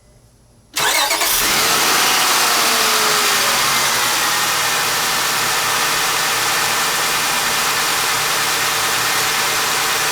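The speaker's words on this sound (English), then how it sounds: "First time start up after changing all the spark plugs." A 1998-2002 Honda Accord with a 3.0 V6, freshly fitted with new spark plugs, cranks briefly and fires up, then settles into a loud, steady idle close by with no talking.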